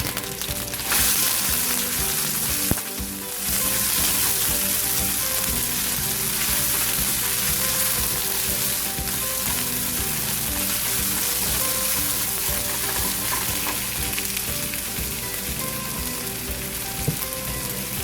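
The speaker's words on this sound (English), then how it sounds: "onions, garlic, and my red pepper, and saute that." Chopped onions, garlic and red pepper sauté in a hot pan with a loud, continuous sizzle and crackle that holds steady throughout, with no voices.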